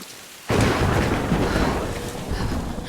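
Rain and thunder in the Tomb Raider video game: a sudden loud rumbling crash breaks in over a quieter background, then settles into a sustained, heavy roar of rain.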